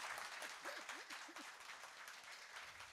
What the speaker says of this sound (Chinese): 拍手掌，拍手掌。